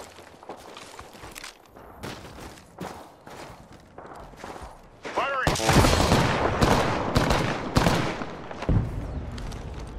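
Gunfire from the video game Apex Legends: scattered shots and footsteps at first, then a loud, dense burst of rapid fire crackling continuously for the second half.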